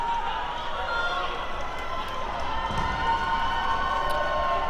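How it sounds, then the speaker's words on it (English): Hometown crowd cheering loudly during a dodgeball semifinal match in a gym, a continuous roar with running footsteps and ball bounces, and voices over it. "Hometown crowd cheering loud"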